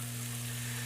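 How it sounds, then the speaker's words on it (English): Ground beef in a pan sizzles loudly and steadily just after beef broth is poured in, a dense, hissing fry heard close up with no voices over it. "Oh wow, you could hear that sizzle right away."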